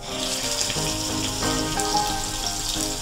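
Chopped onions drop into hot oil and sizzle in a dense, steady frying hiss with bubbling crackle, loud and close, with no voices over it.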